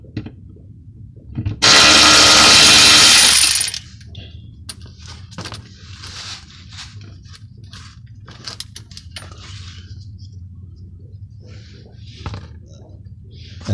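A power tool, likely an impact wrench, zips off an 18mm bolt securing the transmission mount to the cross member on a 1993–2002 Camaro, giving one loud burst of about two seconds, followed by faint clinks and handling noises in the garage.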